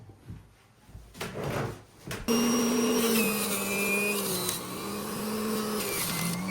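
A juicer motor pressing ginger into juice starts abruptly after a couple of seconds of quieter handling noises, then holds a loud, steady whine with a low hum that wavers slightly as the ginger feeds through.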